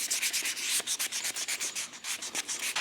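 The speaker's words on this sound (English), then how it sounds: "I need to completely resand this thing all the way down and redo it. Start off with 400." Hand sanding of car paint with 400-grit sandpaper during an Evo 8 rebuild, a quick, steady rhythm of close, dry scratching strokes with no talk.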